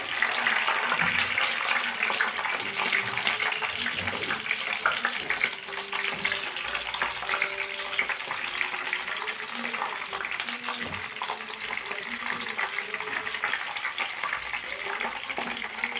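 Peppers frying in oil in a pan, a steady close sizzle with occasional stirring clatter and faint background kitchen sounds, continuing evenly throughout.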